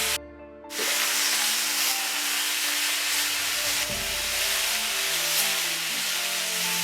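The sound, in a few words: beef searing and sizzling in pan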